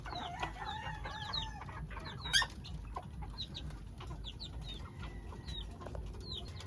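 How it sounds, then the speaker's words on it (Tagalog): Chickens chirp and cluck softly in short, scattered calls, with one sharp louder squawk, over a low steady background hum. The sounds are faint and spread across the whole stretch. "May tandang din dito si Chawot."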